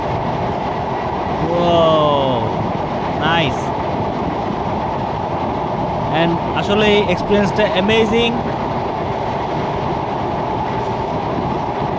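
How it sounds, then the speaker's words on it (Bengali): Inside a train crossing the Padma Bridge in Bangladesh, a steady rumbling rattle of the carriage runs throughout while people talk over it and occasional higher squeals and clatter from the wheels come through. "আমরা এখন ট্রেনে করে পদ্মা সেতু পার হব।"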